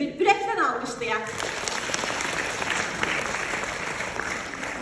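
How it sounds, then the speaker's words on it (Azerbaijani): A seated audience at an educator's talk on a teacher's life principles claps warmly, a steady wash of many hands that follows a brief stretch of speech and carries on evenly to the end. "Gəlin özümüzü bir ürəkdən alqışlayaq."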